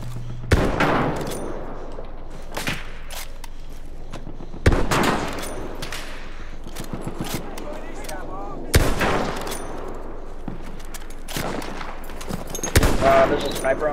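Rifle fire in the video game Battlefield 1 open beta crackles in repeated loud bursts, with single shots and rapid volleys landing every few seconds over a low battlefield rumble.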